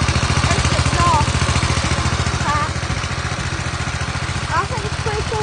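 A small Coleman mini bike engine idles close by through its exhaust, a rapid, even chugging putter that runs steadily throughout while a person speaks over it in bursts.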